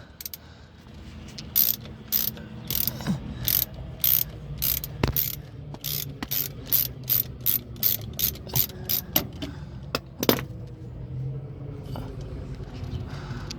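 Rapid bursts of ratchet clicking while axle bolts are backed out on a 2000 Ford F150 during front passenger axle replacement, repeating in short runs close to the microphone, with light talk at times.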